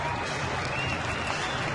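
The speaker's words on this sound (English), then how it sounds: "round of applause from the" Applause from a baseball crowd of about 12,500 at a Chicago White Sox at Cleveland game, a steady, dense wash of clapping and crowd noise that stays even throughout, heard at a distance with no talking over it.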